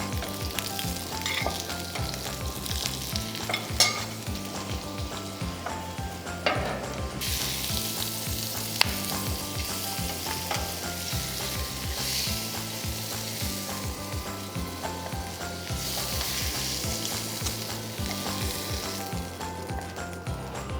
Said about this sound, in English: We'll temper this oil with little bit of green chili, little bit of ginger, and very little of garlic. We'll put the prawns.